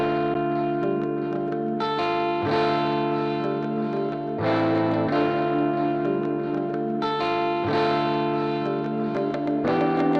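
Several layered electric guitar leads with distortion, echo and reverb join an accent pluck in a Studio One beat. The dense, sustained, effect-heavy melodic chords repeat in phrases, loud and continuous, without any voice.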